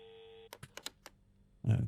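In the video game Anomaly Exit, a steady telephone line tone hums briefly with no one answering, followed by a few soft clicks and taps, then a short louder thump near the end.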